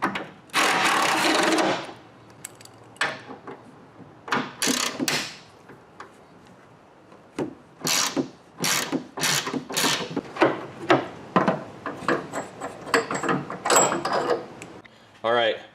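A Torx bit, T30 and T55, loosens bed-rack bolts on a 2023 Toyota Tacoma, giving close scraping, ratcheting and clinking of metal in irregular bursts, with someone talking over part of it.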